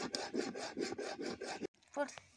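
Thickening palm sap jaggery being stirred steadily in a pan at home, heard as close, rhythmic scraping strokes for over a second before a short pause and one fainter scrape.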